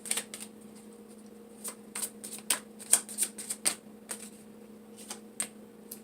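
A deck of tarot cards is shuffled and a card drawn, giving soft, quick riffles and flicks in irregular bursts over a steady low hum, close and fairly quiet.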